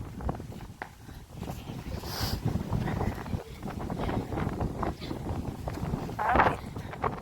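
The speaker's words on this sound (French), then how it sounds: "Oh là, vraiment du vent très fort." Strong gusting wind buffets the microphone outdoors in Kyiv, Ukraine, rumbling bursts rising and falling as a person talks intermittently underneath.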